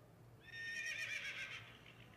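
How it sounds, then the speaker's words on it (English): A horse lets out a single long, shrill whinny that rises and wavers for over a second before fading, heard alone over a quiet background as an effect within a story being read aloud. "Belle heard Philippe whinnying outside her window"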